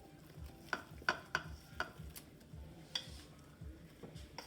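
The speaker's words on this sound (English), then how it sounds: "I'm going to stir that up in there like that." A spoon or whisk stirs cauliflower wing batter, pancake mix, in a bowl, giving a handful of sharp clinks and scrapes against the bowl's sides over a low background rumble.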